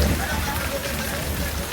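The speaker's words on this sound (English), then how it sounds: "So it started to rain." Rain patters steadily around a boat at the Haulover Beach sandbar, a close, even hiss of drops on surfaces lasting a couple of seconds with faint voices mixed in.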